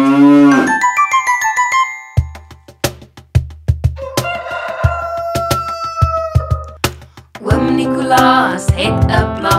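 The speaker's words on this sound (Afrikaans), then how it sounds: "Met 'n moe moe hier en 'n moe moe daar, hier 'n moe daar 'n moe." One loud, close cow moo opens, followed by a run of crisp percussive clicks and bright musical tones, then another animal call near the end.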